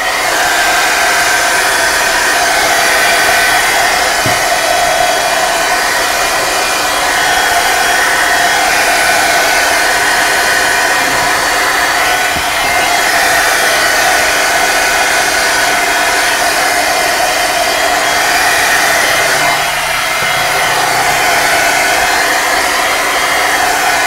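A hair dryer blows steadily and loudly for the whole stretch, drying a gesso-coated art piece, its even roar close and unbroken.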